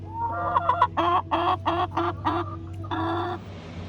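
A small backyard flock of hens clucking close by in a series of short, rhythmic bursts over a steady low hum.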